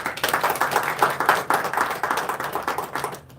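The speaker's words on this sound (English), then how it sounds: "So please give her a round of applause." Steady hand clapping from an audience at a Guru Nanak Dev Ji Gurpurab celebration in NSW Parliament, Sydney, dense and lively, holding for a few seconds before quickly fading out.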